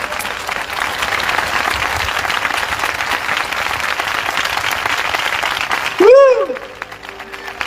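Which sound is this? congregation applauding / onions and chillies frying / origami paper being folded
congregation applauding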